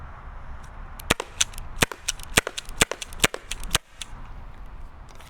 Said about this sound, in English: now we're going to shoot John again with just projectile, but we're going to do a couple in a row